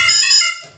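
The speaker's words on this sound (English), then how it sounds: "loud and aggressive alarm" A loud, aggressive electronic alarm sounds as a single shrill tone lasting about half a second, then quickly fades.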